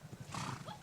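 A horse neighs with clip-clopping hooves at an outdoor outing in the Puncak highlands, the whinny rising briefly in the middle while voices chatter alongside.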